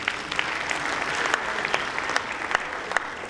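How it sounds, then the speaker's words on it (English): An audience gives a speaker a round of applause, a dense, steady patter of clapping with a few sharper individual claps standing out. "Big round of applause again for him."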